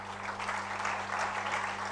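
A conference audience at an HR event claps in a steady, moderate patter of many hands, with a low electrical hum running beneath.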